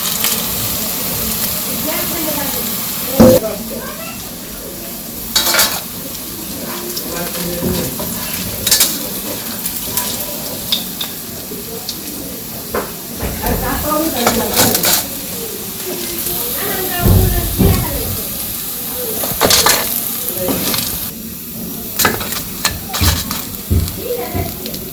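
Bora fritters frying in hot oil in a village kitchen, a steady sizzle and hiss with occasional scrapes and knocks of stirring in the pan, close and continuous; people talk intermittently over it.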